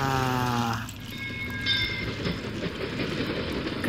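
Toy Thomas train set running on its track, starting with a bright melodic whistle-like tone, then a steady rattling, clacking rumble of wheels on plastic rails close by, with no speech.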